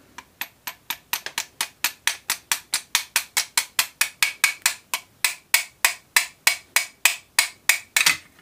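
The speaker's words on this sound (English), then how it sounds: "I'm using the hide side of this copper hide hammer." Steady, rapid taps from the rawhide face of a copper hide hammer striking a pin out of a Gamo Swarm air rifle, about three or four per second, close and crisp, with no talking.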